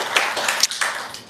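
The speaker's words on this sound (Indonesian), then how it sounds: "Kita boleh tepuk tangan untuk kita semua Ibu Bapak" Audience applause at the close of an Indonesian talk on silent meditation, heard as a short burst of scattered hand claps with no voices.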